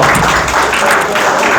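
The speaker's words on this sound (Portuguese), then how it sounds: "Salva de palmas." A class applauds during a Portuguese-language religious lesson, a short, loud burst of dense clapping filling the room without any talk.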